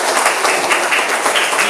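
A group of students in a classroom clapping hands together in sustained, dense applause, steady and loud throughout with no pauses.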